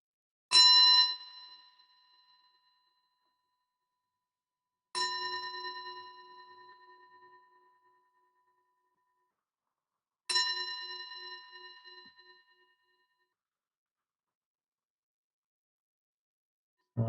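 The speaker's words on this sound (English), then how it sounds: "we're going to take 3 deep breaths after I ring this bell" Meditation bell struck three times, each a clear ringing tone with long decaying resonance, spaced about five seconds apart in an otherwise silent room.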